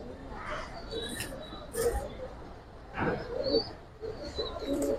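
Silver military pangkhi pigeons cooing in a few soft, separate bursts, fairly close and quiet, with faint handling noises and brief chirps between them.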